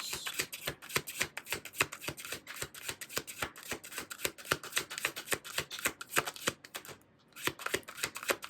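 A deck of tarot cards flicked and shuffled by hand makes a rapid, even train of crisp papery clicks, close and fairly quiet, with a brief pause near the end and no voices.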